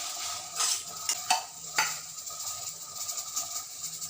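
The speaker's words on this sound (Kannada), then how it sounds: "ಬ್ಯಾಡಗಿ ಮೆಣಸಿನ್ಕಾಯಿ ಹಾಕಿದ್ದೀನಿ. ಇದನ್ನು ಹುರಿಯೋಣ ಕೆಂಪಾಗೋ ಹಾಗೆ." Byadgi red chillies fry in a pan with a soft, steady sizzle, while a utensil is stirred through them, giving a few distinct scrapes and clinks against the metal.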